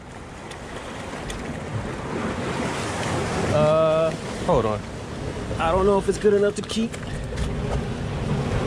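Ocean surf at a Southern California beach, waves washing and splashing continuously with gusty wind noise on the microphone, rising louder toward the end while people talk over it.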